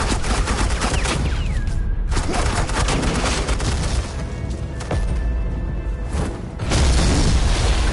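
Heavy suppressing gunfire in the Batman: The Enemy Within video game, with dense rapid bursts and booming shots filling the whole stretch at close, loud range, with no talking.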